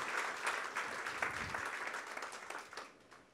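A church congregation applauding during a sermon, a steady wash of many hands clapping with no single rhythm, moderately distant and fading slightly toward the end.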